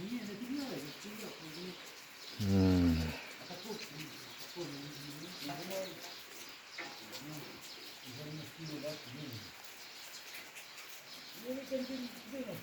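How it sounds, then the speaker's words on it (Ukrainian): Pigeons coo nearby in repeated soft, throaty rolling calls, with one louder burst, while a person briefly murmurs. "місцеві голуби."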